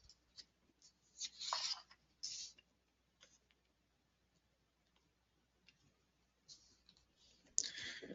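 A computer mouse clicks in short, quiet bursts, several crisp clicks spread over quiet pauses, close and dry with no talking.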